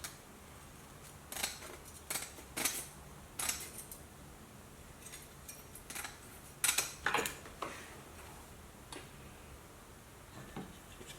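Hardware cloth being cut down for a hornet trap, heard as a run of sharp metallic snips and clicks in irregular bursts, close and fairly quiet between cuts.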